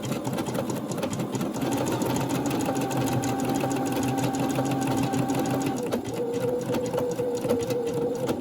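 A sewing machine runs a fine zigzag stitch along the edge of a fabric face mask pocket, giving a steady, close mechanical whirring hum that holds for several seconds and shifts pitch slightly near the end.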